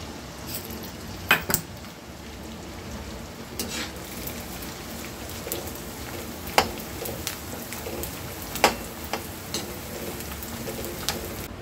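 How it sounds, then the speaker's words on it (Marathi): Edible gum (dink) frying in ghee in a pan, a soft steady sizzle with scattered sharp clinks of a utensil against the pan, nobody talking. "आणि याच तुपामध्ये आपण डिंक तळून घेऊया।"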